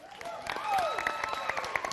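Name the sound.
applause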